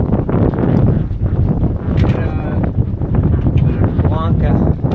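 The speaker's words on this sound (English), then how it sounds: "Wind is kind of turning" Strong wind buffets the microphone aboard an anchored sailboat at sea in Charlotte Harbor, a steady loud roar with gusty rumble throughout and brief faint voices.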